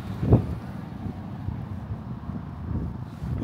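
Low, rumbling winter wind in Canada buffets the microphone steadily, with a brief louder gust near the start.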